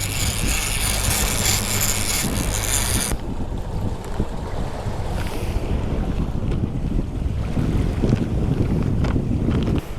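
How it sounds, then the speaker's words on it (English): Strong wind blasting a small fishing boat out at sea at sunrise, a loud continuous roar with gusting microphone buffeting and water sloshing against the hull, no voices. "this wind sounds like a freaking tornado"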